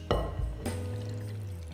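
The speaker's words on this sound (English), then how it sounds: "I'm going to create a well in the centre of the flour mixture, and I'm going to pour in my liquid ingredients" Liquid ingredients pour into a well in a bowl of flour for vegan empanadilla dough, a soft, steady splashing hiss with a brief second pour near the end over a faint background hum.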